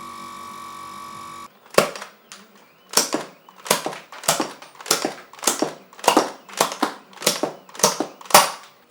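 A modded Nerf Air Max 10 blaster fires foam darts through 3D-printed PETG barrels: about eleven sharp, snappy clacks in a fairly even rapid rhythm, close and loud, following a brief motorized hum.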